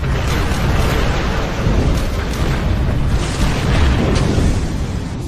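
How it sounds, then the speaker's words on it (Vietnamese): Animated destroyer main guns fire amid explosions, a loud continuous rumbling roar of blasts and booms rolling on without pause. "Pháo chính khu trục hạm đã sẵn sàng."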